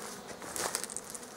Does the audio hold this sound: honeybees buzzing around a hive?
yes